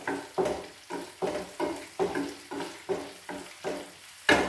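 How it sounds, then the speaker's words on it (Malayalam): Masala being sautéed in a frying pan with fried chicken pieces for a Kerala-style fried chicken curry, heard as a steady run of rhythmic stirring strokes, about ten evenly spaced scrapes over a soft sizzle, close and moderately loud, no talking. "നമ്മൾ ഈ വറുത്ത ഇടയിൽ തന്നെ ഈ മസാല കൂട്ടുന്നല്ല അതിൽ തന്നെ ഇട്ട് വഴറ്റുവാണ്"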